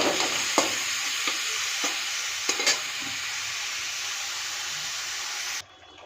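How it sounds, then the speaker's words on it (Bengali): Turmeric-coated prawns fry in hot oil in a wok, giving a steady, close sizzle with a few light stirring clicks before it cuts off abruptly near the end. "চিংড়ি মাছটা ভাজা হচ্ছে"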